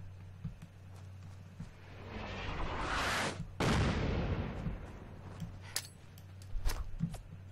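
Gunfire in Fallout 4 shooting into a house: a sustained loud burst of shots and a blast-like roar, then scattered sharper impacts afterward.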